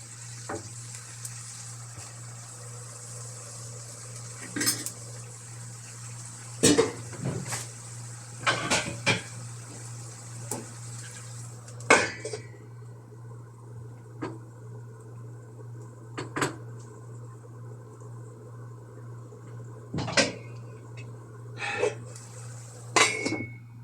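Brinjal (eggplant) kootu curry is stirred in a pot on the stove: a soft frying hiss with loud metal spoon clanks and pot knocks, then a lid is set on and the sizzle drops to muffled bubbling between occasional clatters.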